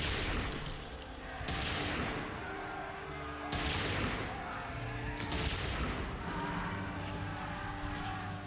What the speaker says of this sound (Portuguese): Estavam a apenas 40 passos de distância quando o Duque deu ordem para atirar